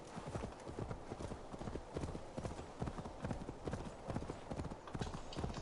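Horse hooves galloping in the video game Assassin's Creed Valhalla, a fast continuous clip-clop rhythm at steady pace, fairly quiet, with a voice talking at times.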